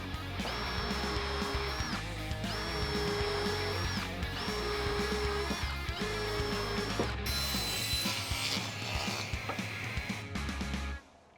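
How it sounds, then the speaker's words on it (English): Screws being driven into a pre-drilled wooden shooting board, a drill or driver whirring in several steady pulses with a rising whine, then a rougher grinding as a screw bites into the wood, close and continuous. "I can pre-drill and just put some screws in"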